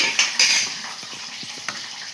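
Spoon stirring a sanaga payasam mixture of chickpeas in a pot, scraping and clinking in repeated strokes, close and fairly loud, with no voices.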